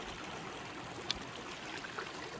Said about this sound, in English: This is Snake Creek, running into the Black River.